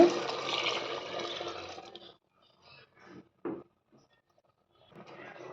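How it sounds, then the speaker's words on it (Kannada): Water splashes into a cooking pot of simmering roasted hyacinth bean sambar for about two seconds in a steady pour, followed by a few brief clinks and soft sounds. "ಸಾಂಬಾರ್ಗೆ ಎಷ್ಟು ಬೇಕೋ ಅಷ್ಟು ನೀರು ಹಾಕ್ಕೊಳ್ಳೋಣ."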